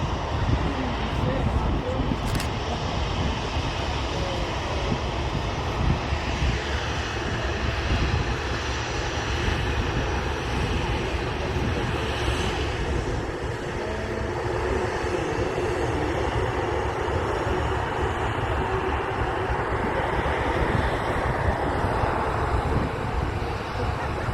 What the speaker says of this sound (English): So Logan Air departing now for the Alamo.